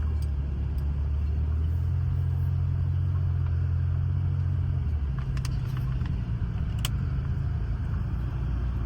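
A 1984 Pontiac 6000 STE with a bogging problem drives around a residential block, heard from inside as a constant low engine and road rumble, with a slight shift in engine tone midway and a few faint clicks.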